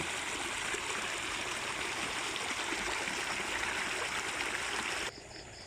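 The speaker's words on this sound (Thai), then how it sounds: "น้ำนี่ไหลเลยนะ" Floodwater after an all-night storm rushes through a channel beside a rice field, a dense continuous roar and gurgle that stays steady for several seconds before dropping suddenly in level near the end.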